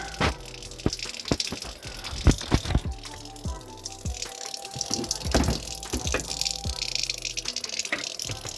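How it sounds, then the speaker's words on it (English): Green coolant draining from a car radiator through an added hose, a steady watery gush and splatter with irregular drips and gurgles, close and moderately loud. "add a piece of hose to that, and then we'll crack it open and let it drain out"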